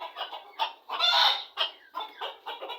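A large Fayoumi rooster gives a run of close, moderately loud clucks and short throaty calls in uneven bursts, with one longer drawn-out note in the middle.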